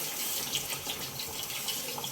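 Water is poured into a pot of aloo gosht with potatoes and yogurt, a steady splashing stream running continuously at close range with no talk.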